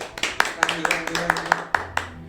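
Hands clap to welcome a guest on a Hindi horror podcast: a handful of sharp, close claps, loosely rhythmic and slightly uneven, with a low voice murmuring underneath.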